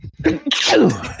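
A single sharp human sneeze with a quick inhaled build-up, loud and close, on a podcast recording.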